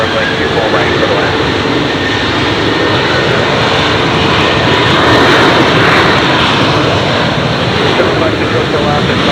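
An airliner lands on runway 24 Right at LAX, a steady broadband jet engine roar holding loud and constant throughout, with a faint voice underneath.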